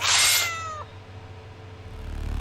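A cartoon cat gives a single loud, bright meow that fades quickly, followed by low ambient rumble.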